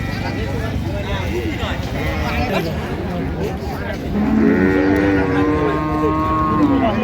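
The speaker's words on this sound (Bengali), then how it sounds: "বেশ সুন্দর গাভী বাছুর আমরা দেখছিলাম এখানে" Cows and calves low repeatedly at a busy livestock market in Raniganj, Dinajpur, with one long, loud moo standing out near the end over steady crowd chatter and people talking nearby.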